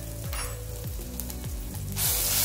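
Cumin, mustard seeds, green chilli paste, asafoetida and turmeric sizzle steadily in hot oil in a pan. The hiss is even and close, and it swells louder near the end. Faint tones sound in the background.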